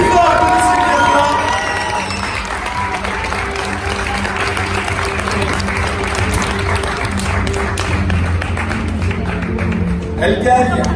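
Crowd at a Swiss Voice Tour singing competition semi-final applauding and cheering, steady loud clapping with shouts and whoops that carries on for several seconds, with voices mixed in.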